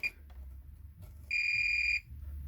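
A multimeter continuity tester on a circuit board gives one sustained electronic beep lasting under a second after brief quiet clicks, close and clear over a low background hum.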